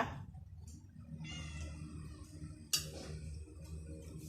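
A faint cat meows a few times against a low background hum, with a sharper sound partway through.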